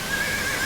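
A horse standing at a hitching post at a folk event neighs in a brief, sustained whinny, clear and fairly close.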